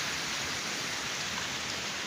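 Heavy rain falls steadily in a rural Sambalpur setting, a dense, even hiss that fills the whole stretch without pause, loud and close with no voices over it.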